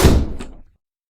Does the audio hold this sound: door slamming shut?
yes